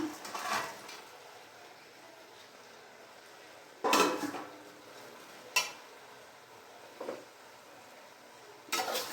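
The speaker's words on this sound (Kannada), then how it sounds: "ಈಗ ನಾವು ಚೆನ್ನಾಗಿ ಫ್ರೈ ಮಾಡಿ ಎತ್ತಿಟ್ಕೊಂಡಿರೋಂಥ ಎಲ್ಲ ಗೋಬಿಗಳನ್ನ ಇದರಲ್ಲಿ ಹಾಕ್ಬಿಡೋಣ" Fried gobi cauliflower pieces tip into a pan with a few sharp clatters and scrapes of metal utensils, in separate bursts between quieter stretches with no voices.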